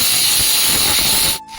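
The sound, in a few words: finely chopped onions sizzling in hot oil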